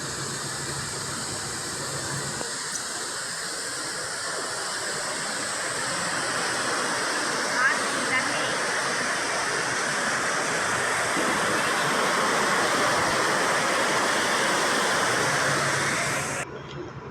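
Waterfall at Courtallam pours in a constant broadband roar, steady and fairly close, slowly swelling in loudness before cutting off, with no speech over it.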